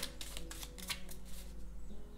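Playing cards shuffled repeatedly in a card-reading session, with soft riffling bursts in quick succession, close and fairly quiet over a low steady hum.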